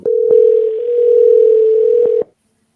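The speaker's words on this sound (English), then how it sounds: "I'm going to call him from this phone number" A telephone line gives a steady, loud electronic tone lasting about two seconds, broken by a few small clicks, before it cuts off into silence.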